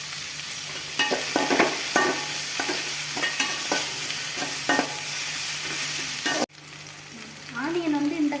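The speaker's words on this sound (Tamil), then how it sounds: "ஆனியன் கொஞ்சம் சீக்கிரமாக வதங்கிறதுக்காக நம்ம உப்பு ஆட் பண்ணிக்கலாம்." Onions sautéing with salt in a pan for a chickpea and potato curry, loud continuous sizzling with repeated scraping stirs, and a short pause before the frying resumes more quietly.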